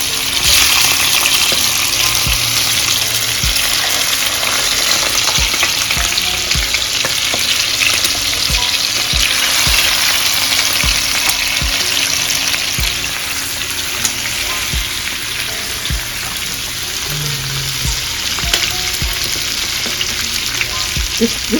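Turkey wings fry in a skillet of olive oil and bacon drippings, a steady dense sizzle and crackle running loud and unbroken, with occasional faint stirring clinks and pops.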